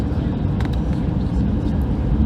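Cabin of a Hawaiian Airlines A321neo on final approach to Long Beach, a steady low-pitched roar of engine and airflow that stays loud and even throughout, with a few faint higher clinks over the rumble.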